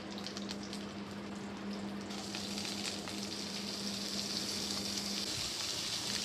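Flat beans (field beans) added to hot oil with curry leaves, sizzling and frying in a pan, a steady loud crackle that brightens and intensifies after the first couple of seconds, with a low hum underneath and no talking.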